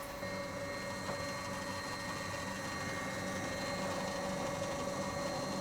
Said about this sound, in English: So this is a Mcpherson Strut being dynoed, and we're doing the compression cycle.